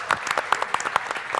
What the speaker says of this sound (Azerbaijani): Xanımlarımıza alqışlar o zaman.